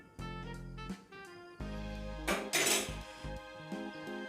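A metal spoon stirs a pot of boiling fenugreek kuzhambu, scraping and clinking against the pan in repeated close strokes that ring brightly, with no voices.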